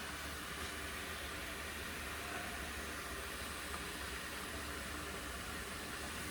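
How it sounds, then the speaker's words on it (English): A Doll 512/3 toy steam engine boiler steaming as it heats, a steady, faint, broadband hiss with no distinct beats, continuous and unchanging throughout. "Got a little bit of steam boil coming."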